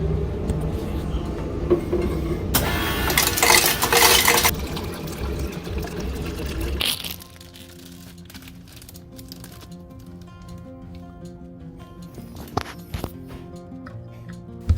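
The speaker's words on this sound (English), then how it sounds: "Time to refill the water." Water being poured to refill a container in a home kitchen during breakfast, a loud rushing pour lasting a few seconds up front, then quieter clinks and faint handling noises.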